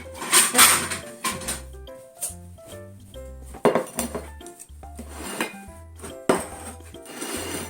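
Dishes and cutlery clink and scrape as steamed cabbage dressed with olive oil is served onto a plate, a series of close, uneven clatters with faint background music.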